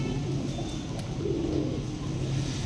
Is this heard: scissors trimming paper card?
no